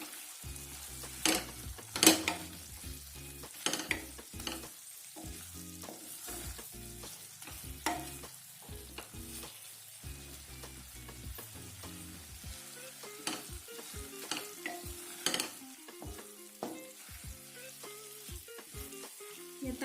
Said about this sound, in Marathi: आता शेंगदाण्याचं कोट टाकते पूर्ण एकजीव करायचं